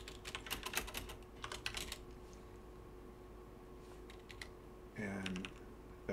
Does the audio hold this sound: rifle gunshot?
no